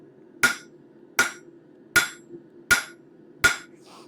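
A blacksmith's hammer strikes a hot stainless steel bar on an anvil to start a taper: five loud, ringing metallic blows at an even pace of roughly one every three-quarters of a second, heard alone.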